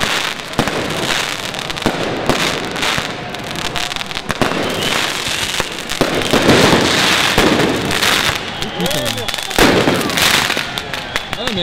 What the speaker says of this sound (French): on aime bien les feux d'artifice